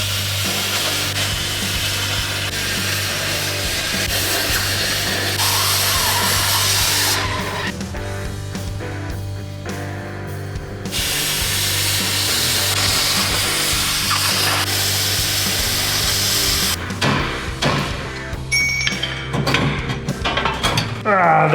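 A power tool cuts out old rivets with a loud, continuous grinding rasp. It eases off briefly around the middle and again near the end before resuming.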